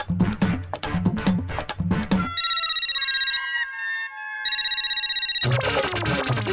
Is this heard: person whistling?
no